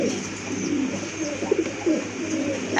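Several pigeons coo close by in soft, low, repeated bursts over a quiet background hum.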